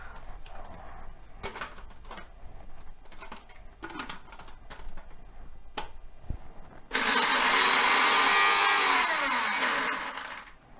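Washed herbs are blended in a kitchen mixer. Knocks and handling noises come first, then a loud, steady motor whir runs for about four seconds and slowly fades out.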